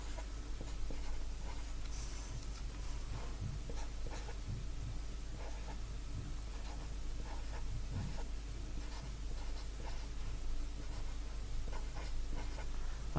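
A pen scratching numbers onto paper while a times table is written out, soft and close with short strokes in an irregular rhythm over a low steady hum.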